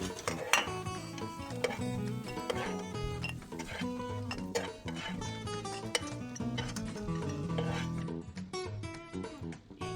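Golden-brown cashews fried in ghee are moved into a bowl with a metal spoon, making repeated close clinks and scrapes of metal against pots and dishes in an irregular rhythm.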